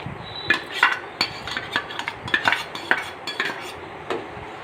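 A spoon stirs soaked sago through boiling milk for vermicelli payasam, scraping and clinking against the pot in a steady, irregular rhythm of close, light taps with no voices.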